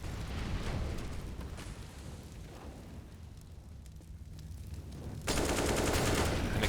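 Grenades bursting and gunfire during a Counter-Strike match on the Inferno map, a sustained rumble of blasts and shots that swells into a loud, dense burst near the end.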